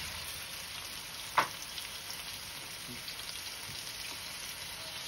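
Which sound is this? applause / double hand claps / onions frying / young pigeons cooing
onions frying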